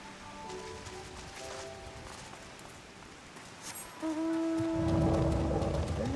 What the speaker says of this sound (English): It's been raining again.